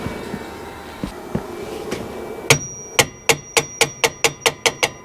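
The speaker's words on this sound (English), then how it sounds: "let's pop a couple valves with a hammer and see" A hammer taps on the engine valves of a 1961 Buick Electra that sat parked for over 40 years. Ten or so sharp metallic raps come in a steady, quickening rhythm after a few softer knocks and some faint background noise.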